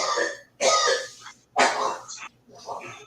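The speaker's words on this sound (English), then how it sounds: "Cough that one up." A man coughs and clears his throat several times in separate harsh bursts, close and loud, with short pauses between each fit.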